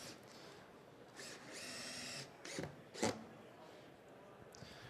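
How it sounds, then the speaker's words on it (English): A power drill drives screws through wood strapping into a 2x4 buck framing a window, heard in several short whirring bursts with brief gaps between them and a heavier thud near the middle. "here I got him screwing it into the 2x4 buck that's around the window"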